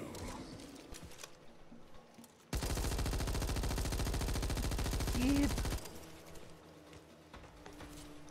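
A machine gun in the Back 4 Blood video game fires a continuous rapid burst lasting about three seconds, loud against quieter ambience before and after, with faint game sounds around it.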